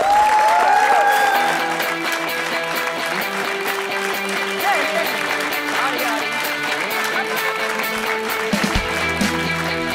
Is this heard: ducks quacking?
no